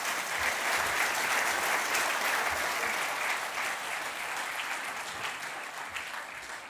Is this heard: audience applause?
yes